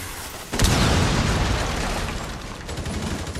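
A breach charge is blown in Rainbow Six Siege, a sudden loud close explosion that bursts in after a moment of quiet and decays into a long rumbling roar with debris.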